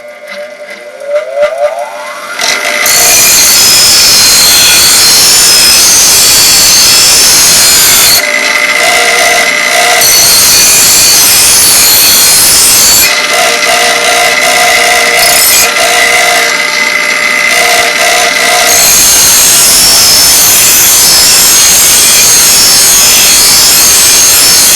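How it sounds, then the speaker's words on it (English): Bench grinder wheel sharpening a blade, a loud, sustained abrasive grinding roar broken into several long passes with short gaps, close with no talking. "Always grind it, the wheel is going to go this way"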